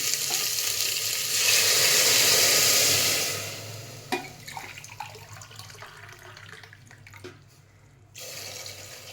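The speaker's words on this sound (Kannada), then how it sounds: "2 ಗ್ಲಾಸ್ ನೀರು ಹಾಕ್ತಾಯಿದ್ದೀನಿ." Two glasses of water pour loudly into a pot of frying food for a few seconds over a sizzle, then fade to quieter bubbling with a few clinks.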